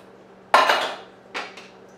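Corn tipped into a small, crowded pan while making tortilla soup. Two close metallic clatters ring out, the first louder and the second softer, each trailing off into quiet.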